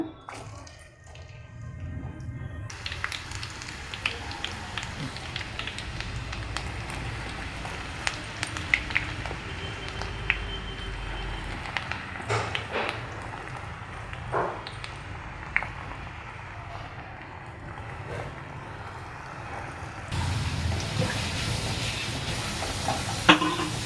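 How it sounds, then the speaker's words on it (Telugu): Steady hiss and bubbling sizzle of sliced onions deep frying in hot oil mixed with ghee for chicken dum biryani, continuous and close with scattered pops, with a faint voice at times. "ఉల్లిగడ్డలు ఇట్లా గోల్డెన్ బ్రౌన్ కలర్ రావాలండి. ఇలా డీప్ ఫ్రై చేసుకోవాలి."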